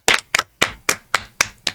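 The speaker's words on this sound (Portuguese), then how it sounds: "Aplausos!" Seven evenly spaced hand claps, close and fairly loud with no talk, greeting a guest professor on a Brazilian sports and health podcast.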